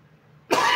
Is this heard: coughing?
yes